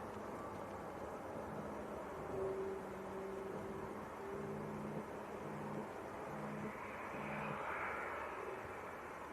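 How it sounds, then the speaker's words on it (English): An Aer Lingus airliner arriving on final approach from Belfast drones faintly in the distance, a low steady engine hum with a hint of rising rush toward the end, and no one talks over it. "Aer Lingus is on finals as well, coming in from Belfast."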